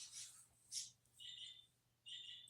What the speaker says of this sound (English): Those are my birds. I got 2 parakeets.